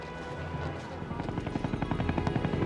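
A helicopter in Korean War-era footage: a steady, close rotor chop that grows more sharply pulsed over a few seconds, with a low engine rumble underneath.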